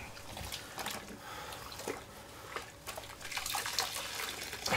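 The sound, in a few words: water running while rinsing down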